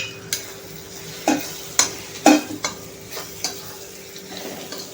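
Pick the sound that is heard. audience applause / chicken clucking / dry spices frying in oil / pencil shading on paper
dry spices frying in oil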